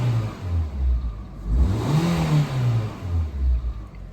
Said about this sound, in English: I'll give it a few revs, hopefully you can hear how she sounds.